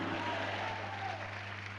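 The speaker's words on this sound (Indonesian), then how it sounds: "Belum cukup kuat tepuk tangannya." Church congregation applauding during a sermon, a steady dense wash of clapping from a crowd throughout, moderately loud with no voice on top.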